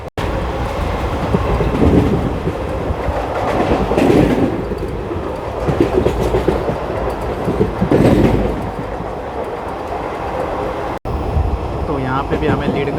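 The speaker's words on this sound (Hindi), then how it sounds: "तो यहाँ पे भी हमें लीड कर रहा है WAP4 लोकोमोटिव" Onboard the Narsapur–Nagarsol SF Express hauled by a WAP4 electric locomotive, a loud continuous rumble of wheels on rails with rhythmic clacks and passing surges, a voice briefly audible near the end.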